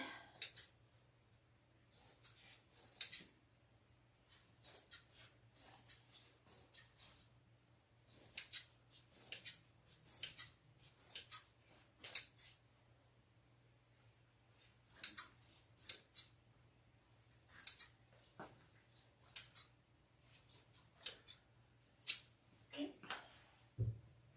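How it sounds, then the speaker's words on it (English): Big scissors snip through quilting fabric repeatedly in short, uneven bursts of cuts, close by, with quiet pauses between and a low hum underneath. "Big scissors out of that set."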